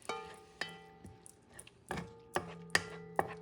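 A spoon mixing turmeric and coriander into a pumpkin and pork stew knocks against the pot, giving about eight sharp, ringing metallic clinks at uneven intervals, close and with no voices.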